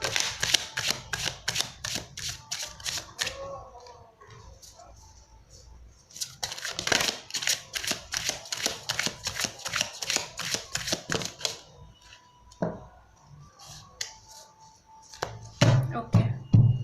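Tarot deck shuffled by hand in quick, crisp riffling bursts, close and fairly quiet, with short pauses between rounds and light handling taps near the end.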